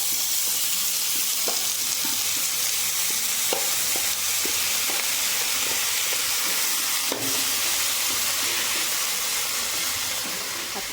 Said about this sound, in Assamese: দি হোৱাৰ পাছত মই এতিয়া ইয়াতে শাকখিনি ভালদৰে ভাজি ল'ম